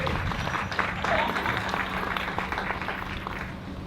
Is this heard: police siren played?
no